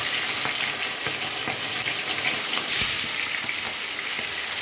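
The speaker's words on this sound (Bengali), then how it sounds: "মাছগুলো সব ভেজে নিই" Small tengra fish fry in hot oil in a pan with a steady, loud crackling sizzle, sprinkled with faint pops and the occasional scrape of stirring, and no voices.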